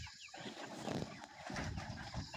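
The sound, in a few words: broiler chickens clucking on a farm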